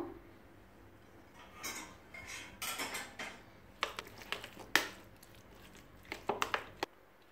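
Chopped capsicum, cabbage and carrot being mixed in a bowl, with soft, irregular scrapes, taps and clinks of a utensil against the bowl, close and fairly quiet, with no talking.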